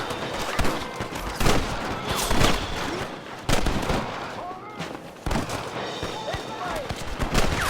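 Gunfire in Red Dead Redemption: a rapid fusillade of shots bursting repeatedly over a busy game soundscape, loud and close, with spoken voices mixed in.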